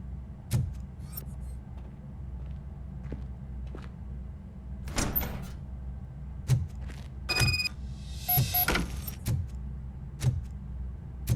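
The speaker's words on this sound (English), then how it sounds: "Now let me get that door open for you." In the RoboCop Rogue City video game, a door is worked open with a string of mechanical clicks, clunks and a sliding metallic rush, scattered thumps over a low ambient hum, with no talking.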